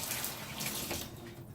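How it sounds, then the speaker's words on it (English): Hot water is poured into a Keurig cleaning cup, giving a soft, steady splashing trickle that fades slightly toward the end, heard alone and fairly quiet. "So I am gonna put hot water in it."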